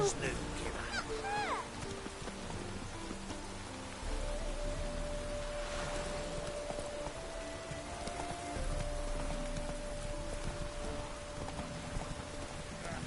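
Rain falls in The Witcher 3 video game as a quiet, continuous patter, with a low hum and brief murmuring sounds in the background.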